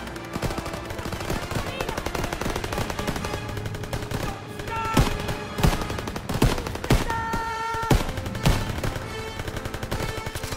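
Rapid rifle and machine-gun fire from a World War II shooter game, with dense overlapping bursts and several sharp, loud single shots rising out of a steady battle din.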